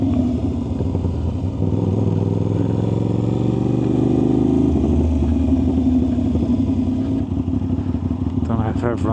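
An Aprilia RS660 motorcycle with an aftermarket exhaust rumbles loudly and steadily throughout, with a deep throaty exhaust note that swells and revs at times.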